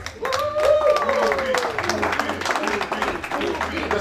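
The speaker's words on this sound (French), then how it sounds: "On applaudit chaudement combien?" An audience at a birthday celebration show claps steadily throughout, a dense wash of applause with a voice speaking over it.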